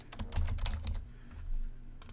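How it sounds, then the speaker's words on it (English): Fingers tap a computer keyboard in a quiet room, several quick soft keystrokes in short irregular bursts, then a pause before a final tap. "I'm going to type Cam."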